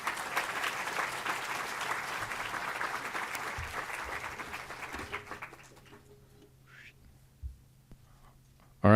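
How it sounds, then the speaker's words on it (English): Audience applause following a talk at a conference session on pollinator habitats, a dense burst of clapping for about five seconds that thins out and fades to near quiet, with a few stray claps and a sudden loud bump at the very end. "round of applause."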